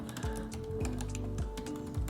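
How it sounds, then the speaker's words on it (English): Keystrokes on a computer keyboard come in uneven bursts of close taps, some clusters quicker than others, sitting over a steady low hum with no speech. "sorry, my typing is really bad"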